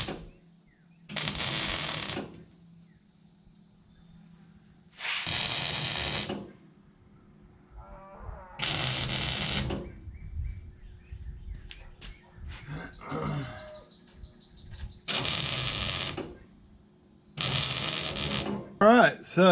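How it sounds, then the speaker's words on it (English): Tack welding during custom fabrication work on a vehicle crossmember, heard as several separate bursts of crackling arc lasting one to two seconds each, spaced by short pauses, close and fairly loud, with faint clanks in between. "So now I got to roll my welder out here and do a little tacky tack on it."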